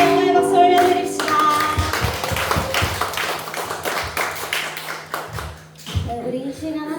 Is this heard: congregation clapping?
yes